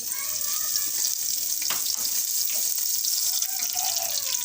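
Cumin seeds sizzle in hot ghee, a steady bright hiss with scattered crackles and a faint clink partway through, close by with no speech.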